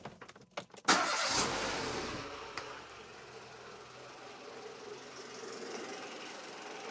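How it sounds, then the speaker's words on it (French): A car engine cranks with a brief stuttering turnover, catches within a second, and settles into a steady, loud idle close by. "allez, je démarre le véhicule"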